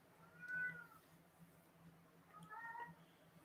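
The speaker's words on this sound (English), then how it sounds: "You can hear a cat in the background." A pet cat named Peanut meows twice at night, the first call drawn out and the second a rising double cry, heard faintly indoors over a steady low hum.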